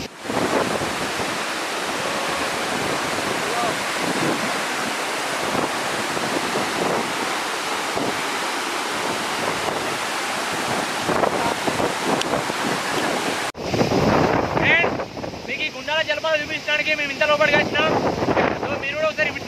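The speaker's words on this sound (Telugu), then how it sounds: "మళ్ళీ ఒకసారి మీకు చూపిస్తా జలపాతం ఎలా ఉందో." Gundala waterfall near Dandepelli mandal in Manchirial district, Telangana, a constant roaring wash of falling water buffeted by wind noise, with a shift in the final seconds where voices and brighter splashing come through.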